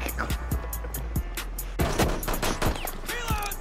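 Rapid gunfire during a Rainbow Six Siege match, a steady string of sharp shots at close range over a low continuous rumble, with faint in-game sounds mixed in.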